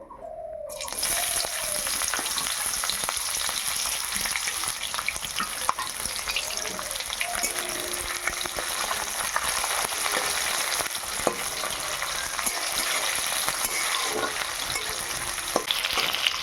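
Chili and onion dropped into hot oil in a heated pan, bursting into a loud, continuous sizzle that carries on steadily after a brief quiet start, with no talking.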